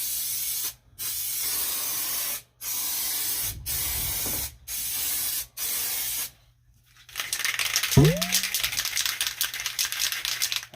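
Raptor bed liner sprays from a rattle can in a cold setting, several steady close hissing bursts with short pauses between them, followed by a longer wider spray and a brief clink.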